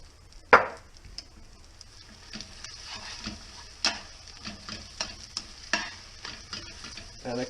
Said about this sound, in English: I'm going to scramble the eggs with the turkey right in it.